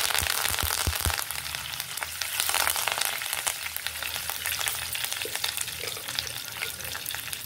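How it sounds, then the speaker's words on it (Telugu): Mustard seeds and cumin sizzle and pop in hot oil, a steady close crackling fry with sharp seed pops near the start and a spoon stirring now and then. "ఒక 1/2 స్పూన్ ఆవాలు, ఒక 1/2 స్పూన్ జీలకర్ర. ఇవి కూడా కొంచెం ఫ్రై అవ్వాలి."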